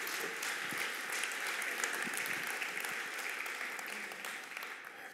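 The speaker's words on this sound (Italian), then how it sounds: "Applausissimo." An audience at a conference on Industry 4.0 and digital manufacturing claps steadily, a dense, sustained applause that stays even and fairly loud throughout, with no talking over it.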